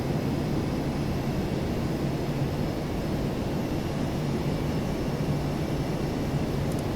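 Boeing 757 in the P3Dv5 flight simulator with its flaps extending, a steady broadband rushing drone of airflow and engine noise that holds level throughout with no speech over it.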